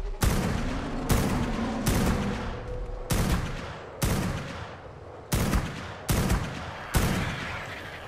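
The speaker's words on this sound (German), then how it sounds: "So, Sniper ran. Und hart drauf schießen." Sniper rifle fire in ARK: Survival Ascended: eight loud, sharp shots at roughly one-second intervals, each followed by a booming, decaying tail.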